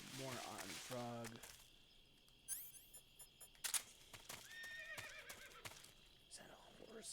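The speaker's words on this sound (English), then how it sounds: "Is that a horse?" A horse whinnies in the jungle game Metal Gear Solid 3, a short neigh rising over in-game ambience and effects. Brief clattering and other game sounds follow, with someone speaking at the start.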